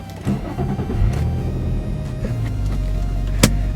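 A 2007 Infiniti G35 coupe on its stock exhaust starts up: a starter whir, then the engine catches and settles into a steady low rumble at idle, with a sharp click near the end.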